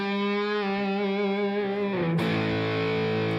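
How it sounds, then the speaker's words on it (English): An electric guitar played through a distorted amp with reverb rings out in a sustained chord. It shifts to a new chord partway through and stays loud and washy. "Let's put this reverb back"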